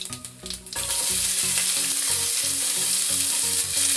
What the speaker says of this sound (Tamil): கடுகு பொரிஞ்சிருச்சுங்க